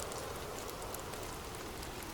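Steady rain falls continuously, a dense even hiss of drops on a surface with no voices or other sounds, constant and close throughout.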